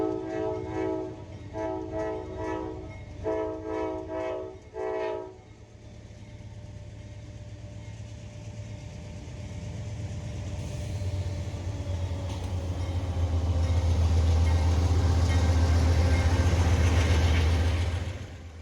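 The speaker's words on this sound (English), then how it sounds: "This manifest goes to show just how close everything is to the tracks here." A manifest freight train passes very close to the tracks in the Allegheny hills, opening with several loud horn blasts, then a growing rumble and rolling clatter of cars that swells to a heavy, sustained roar.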